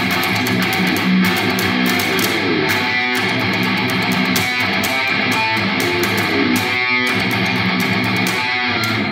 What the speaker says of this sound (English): It is a driven, biting sound with a cocked wah at